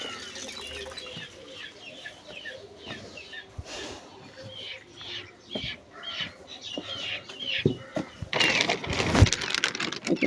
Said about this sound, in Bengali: এখানে হাঁস মুরগি